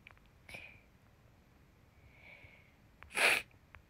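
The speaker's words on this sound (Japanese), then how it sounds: "室内に入ったら絶対くしゃみ出る" A single sharp sneeze bursts out near the end after a couple of soft sniffs, close and loud against an otherwise quiet room.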